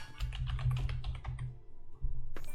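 Rapid keyboard typing while a note is entered on the minimap in Corepunk, a quick run of close, crisp key clicks that thins out and stops, followed by a brief louder clatter.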